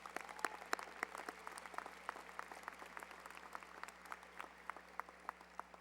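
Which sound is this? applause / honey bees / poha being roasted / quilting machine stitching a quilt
applause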